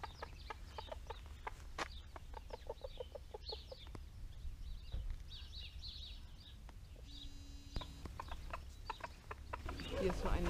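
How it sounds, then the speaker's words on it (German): Chickens walking across a rural path give repeated short clucks in uneven bursts, fairly near but quiet, while people talk faintly nearby and a soft outdoor background hums underneath. "Die Hühner laufen über den Weg."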